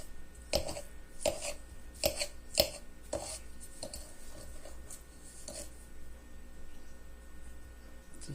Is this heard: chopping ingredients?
yes